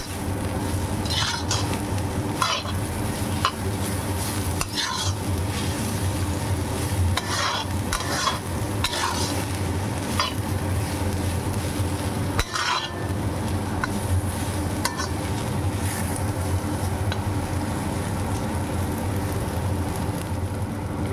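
Vegetables for leftover-rice fried rice stir-fried in a pan, a loud continuous sizzle broken by repeated spatula scrapes and clinks at an irregular rhythm, close up with no talking.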